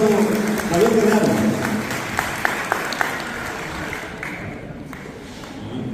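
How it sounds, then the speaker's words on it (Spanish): An audience at a poetry reading during a cultural event applauds, with steady clapping that fades toward the end while a voice speaks over it. "Los aplausos para el profesor licenciado David Gargano."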